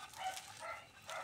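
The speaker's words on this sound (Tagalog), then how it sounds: "Ingay ng mga aso ng kapitbahay namin." Neighbours' dogs bark and yip in short bursts during salting and kneading food in a kitchen, moderately loud yet somewhat distant, with no talk over them.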